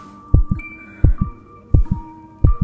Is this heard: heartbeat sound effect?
yes